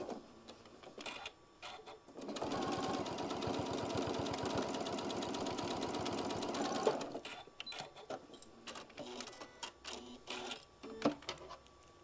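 Sewing machine running a top stitch across a drawstring, a fast rhythmic mechanical whir for about four and a half seconds, with small handling clicks and rustles before and after it and no talk.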